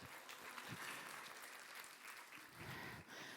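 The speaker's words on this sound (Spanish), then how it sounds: "Aplauso para el cumpleañero" An audience applauding a birthday celebrant at a Biobío 2024 lecture; sustained, fairly faint clapping from a crowd lasting a few seconds, with a slight swell near the end.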